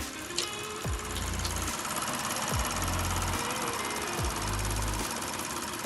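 A 2014 Lexus GS350 engine idles steadily up close, with a fast, regular ticking of direct injectors clicking over the low rumble.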